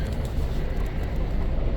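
A full passenger train in motion fills the interior with a dense, even rumble and rattling low roar, steady throughout and without voices.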